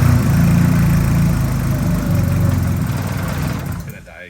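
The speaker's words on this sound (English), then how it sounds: "it doesn't like cold start." A Nissan 240SX engine idles roughly after a cold start, a close, low rumbling drone that holds steady and then fades away as it stalls near the end.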